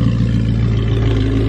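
Audi R8 V8 with Frequency Intelligent Exhaust running close by, a steady loud low engine rumble with a clattering edge, holding level throughout without a clear rev rise.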